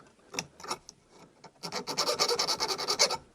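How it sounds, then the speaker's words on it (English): Hand file rasping on small spot welder electrodes for a DIY battery tab spot welder, a few separate strokes at first, then a quick, steady run of close, bright scraping strokes. "I kind of file them down a bit"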